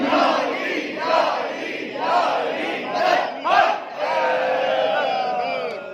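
At a religious celebration gathering, a crowd chants a slogan in loud, rhythmic unison, voices surging in repeated waves close by with a steady roar between shouts.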